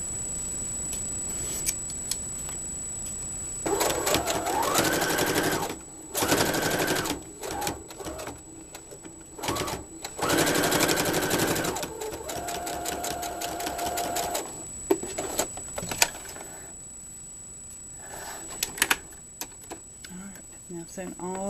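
A sewing machine stitches around the edge of a small quilted coaster in several loud bursts with pauses between, under quiet talk and a steady high whine.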